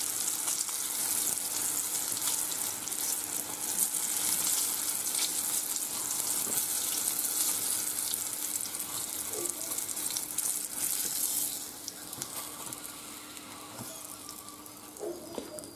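Hake fillets fry in hot oil in a pan, a steady close sizzle with fine crackling that runs without a break and eases slightly near the end.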